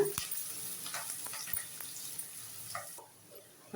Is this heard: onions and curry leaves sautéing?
yes